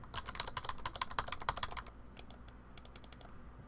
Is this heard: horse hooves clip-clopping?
no